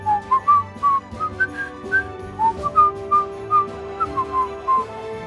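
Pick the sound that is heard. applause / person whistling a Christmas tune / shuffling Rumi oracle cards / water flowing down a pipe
person whistling a Christmas tune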